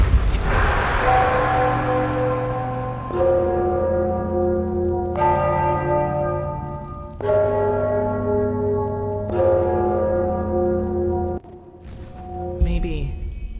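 Large bells ringing in the fantasy video game Enderal: Forgotten Stories, several deep resonant strikes spaced a couple of seconds apart, each swelling and lingering, loud and close with no talk over them.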